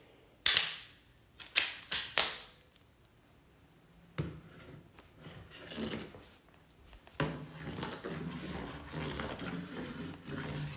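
Sections of a folding white cane clapped against each other, sharp wooden-sounding clacks in a quick series of four early on, then scattered softer knocks and handling rustle, close and fairly loud.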